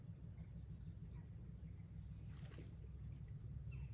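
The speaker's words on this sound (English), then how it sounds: "I hear a boat down in the river." A boat on a river running high sends a faint, distant low rumble that holds steady throughout, with no one talking.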